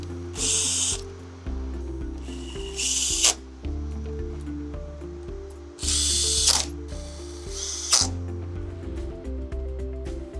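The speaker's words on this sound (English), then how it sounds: "Now all we got to do is tighten the screws." Ratchet clicks in several quick bursts while screws are tightened on a SolarEdge Critical Power modular UPS, steady mechanical ticking between louder clusters against a low background hum.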